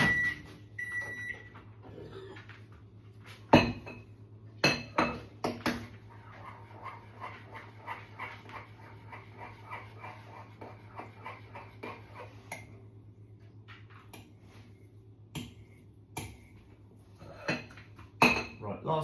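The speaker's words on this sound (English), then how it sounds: "I need to give that a stir" A spoon stirring food in a bowl: sharp metallic clinks and taps in scattered bursts, with a steady low hum behind them.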